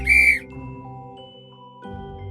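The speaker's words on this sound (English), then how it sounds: "W is for whistle." A short shrill whistle blast opens alone and loud, then fades into a steady ringing tonal hum before another brief burst.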